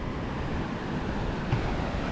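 Steady surf rolls in on Kuta Beach, Lombok, at sunset, a continuous broad wash of breaking waves with light wind buffeting and no voices.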